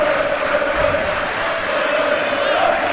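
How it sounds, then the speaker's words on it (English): Leeds United fans at a football match in Belgrade give scattered ironic applause, a steady distant crowd wash of clapping and murmur spread evenly across the stands. "Another Leeds free kick, greeted with ironic applause from those followers who come from Yorkshire."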